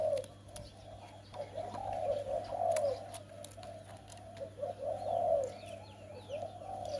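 A zebra dove coos repeatedly in soft, rhythmic phrases, fairly close, over a faint steady hum.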